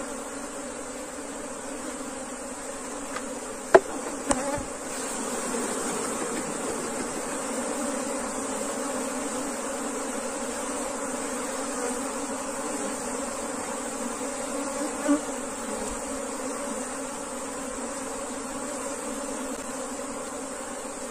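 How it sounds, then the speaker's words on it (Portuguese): A swarm of bees buzzing in and around a hive box used to catch a swarm, a dense continuous drone that stays steady throughout, with a couple of brief knocks early on and no talk. "Entrou muita abelha aqui dentro"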